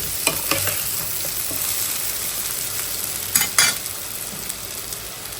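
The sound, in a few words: eggplant and potato frying in oil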